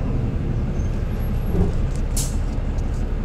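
A nearly empty bus drives along, a steady, loud engine and road rumble heard from inside the cabin, continuous throughout with a brief hiss near the end and no voices.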